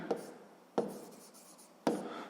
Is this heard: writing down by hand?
yes